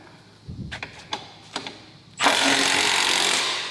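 A power tool runs hard, tightening the bolts of a BMC Lights hitch bar on a 2022 Ford Bronco. A few light metallic knocks come first, then one loud, steady burst of whirring that lasts about a second and a half until the end.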